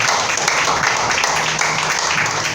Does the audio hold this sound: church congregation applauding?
yes